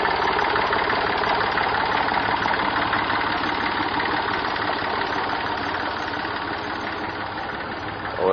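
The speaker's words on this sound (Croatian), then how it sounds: "Dobro vozi traktor." A tractor engine idles loudly and steadily close by, its rough chugging knock holding constant with a slight vibration and no voices, then ending in a brief swell.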